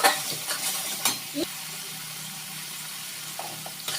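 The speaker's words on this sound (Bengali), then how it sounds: "একটু জল দিয়ে মশলাটা কষিয়ে নিই" A spice paste with a little added water is fried and stirred for vegetarian potoler dorma, giving a steady close sizzle with intermittent scrapes and knocks of a spoon against the pan.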